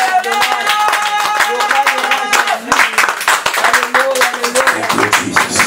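Church congregation clapping and cheering during a Sunday worship service, a steady dense rhythm of hand claps with voices and music mixed underneath throughout.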